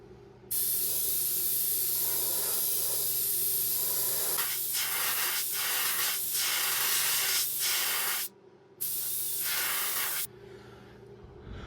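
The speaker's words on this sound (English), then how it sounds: "I got some lime green loaded up in the airbrush. Gonna put that on top of the pink" An airbrush sprays lime green paint onto a crankbait lure in long, close, steady hissing bursts, with short pulses in the middle and brief pauses between sprays.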